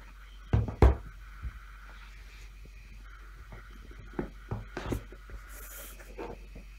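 A white cardboard box holding a drawer is opened during a headphone unboxing, with close taps and knocks, cardboard scraping and soft handling sounds spread across a quiet background.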